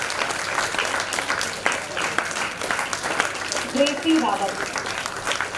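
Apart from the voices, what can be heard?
audience applause welcoming children receiving certificates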